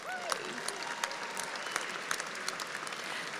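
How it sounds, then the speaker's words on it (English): A large commencement crowd at Angelo State University applauds the graduates, a dense steady roar of clapping with a few sharper claps standing out and faint voices mixed in. "Let's celebrate these graduates with a round of applause"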